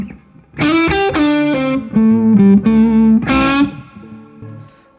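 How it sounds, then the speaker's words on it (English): Guitar played through a Nobels ODR-1 natural overdrive pedal: a few bright, mildly driven chords and notes rung out in sequence, then left to decay, with no talk. "the natural overdrive from Nobels, the ODR-1"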